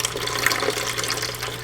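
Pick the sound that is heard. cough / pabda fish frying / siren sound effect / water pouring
water pouring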